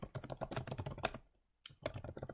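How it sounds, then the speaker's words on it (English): Fingers type a short phrase on a computer keyboard, quick close clicks in bursts broken by a brief pause, with no talking. "I'm just going to type in, what are your goals"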